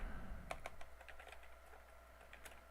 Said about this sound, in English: I'm just typing thanks, everyone, into the chat